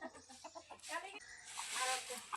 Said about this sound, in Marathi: आमची कोंबडी मम्मीच्या मागं पळते कशी बघा.